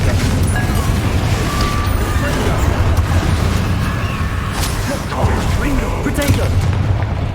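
Confringo fire blast spells explode in the Hogwarts Legacy video game, a continuous loud low booming barrage with scattered sharper crackles layered over the rumble.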